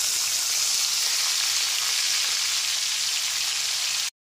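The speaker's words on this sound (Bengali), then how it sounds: "গ্যাসের ফ্লেমটা লো টু মিডিয়ামে রেখে পেঁয়াজ বাটাটাকে খুব ভালো করে কষিয়ে নিতে হবে" Onion paste fries over a low-to-medium gas flame in a pan for a pomfret fish curry, giving a steady, close hiss and sizzle that stops abruptly at the end.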